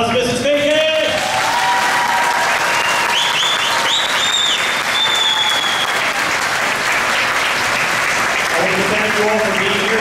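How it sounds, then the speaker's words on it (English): A concert audience at a spring concert gives a sustained, loud round of applause with scattered shouts and whoops, while a voice speaks over it at the start and end. "Can we give one more round of applause to Mrs. Bacon?"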